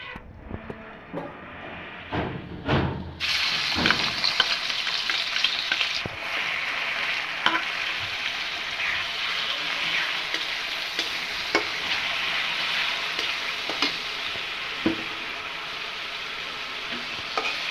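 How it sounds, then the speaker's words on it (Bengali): Onion paste frying in hot oil in a kadai, starting with a few sharp spits and clatters, then settling into a loud, continuous close-up sizzle with occasional pops and crackles, no voices. "পেঁয়াজটা এখন একটু ভালোভাবে ভেজে নেব"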